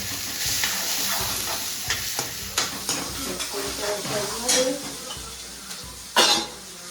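Mustard seeds, cumin seeds, green chillies, onion, tomato and curry leaves fry for chana masala, a close, steady sizzle broken by stirring scrapes and a louder spatter near the end, with a voice briefly heard.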